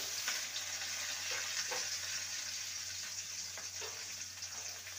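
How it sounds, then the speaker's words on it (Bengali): Okra (bhindi) frying in oil in a pan, a steady, dense hiss of sizzling with faint occasional stirring touches, close and continuous throughout, no voices. "এবার ওই তেলে ভেন্ডিকে ভেজে নেব।"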